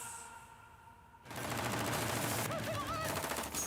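Rapid gunfire erupts in a film action scene from K.G.F. Chapter 1, a dense, loud automatic burst that cuts in suddenly after a quieter stretch and continues steadily.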